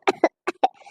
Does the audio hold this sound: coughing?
yes